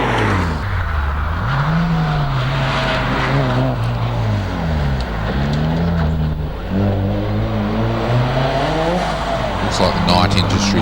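A Nissan 180SX race car at a hillclimb revs hard and shifts through gears with tire squeal, loud and close, rising and falling over about ten seconds while a commentator talks over it.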